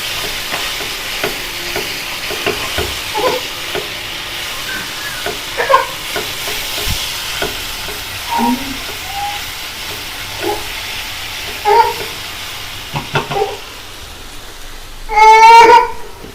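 Soft scraping and stirring in a pan over a low steady sizzle while roasting ingredients for chutney, with occasional clinks and a brief louder hiss near the end.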